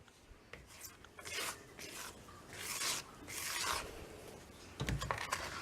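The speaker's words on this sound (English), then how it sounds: "we're going to scrape down the sides" A spatula scrapes down the sides of a mixing bowl of banana bread batter, a series of soft rasping strokes with short pauses between them, quiet and close, with no talking.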